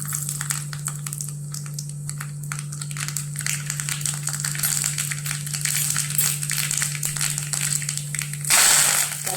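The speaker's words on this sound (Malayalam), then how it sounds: "അതിലേക്ക് വെളിച്ചെണ്ണ ഒഴിച്ച് ചൂടായി അതിലേക്ക് നമുക്ക് കടുക് ചേർത്ത് കൊടുക്കാം." Mustard seeds splutter and pop in hot coconut oil in a pan, a dense, continuous crackle over a steady low hum that ends in a brief louder sizzling burst.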